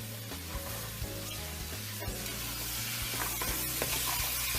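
Squash, zucchini, red peppers, celery, carrots and onions sauté together in a pan, giving a steady, moderately loud sizzle with scattered stirring clicks throughout, no voices.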